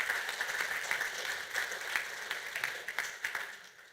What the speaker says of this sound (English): Big round of applause to all of our donors at